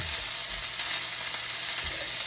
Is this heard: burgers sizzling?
yes